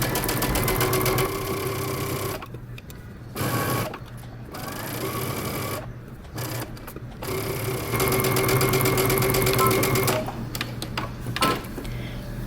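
A domestic sewing machine sews a sleeve into a bomber jacket with long, loud whirring runs interrupted by several short pauses, close and steady with no talk.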